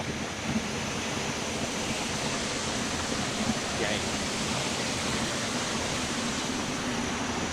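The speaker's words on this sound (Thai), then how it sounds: "นี่ ตัวน้ำตกนะครับ อยู่ข้างบน โอ้ ช่วงนี้น้ำเยอะมาก" Huay Kaew waterfall in Chiang Mai in high flow, a steady broadband roar of heavy falling water that stays constant from start to finish, with no break or change in level.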